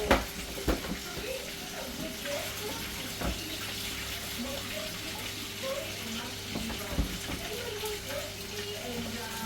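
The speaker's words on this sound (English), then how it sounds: "Finish today, I wash the rice." Rice being washed in water, with sloshing and running water alongside a faint steady hum and occasional sharp knocks, at moderate to low level.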